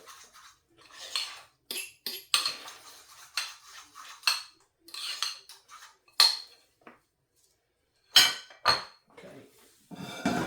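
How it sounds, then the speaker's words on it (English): A utensil stirs and scrapes a thick spice paste for a lamb and beef curry in a bowl, giving a series of sharp clinks and clatters in irregular bursts with short pauses between, close and fairly loud. "So you're going to mix that so we've got a nice thick paste, which we'll use in a second."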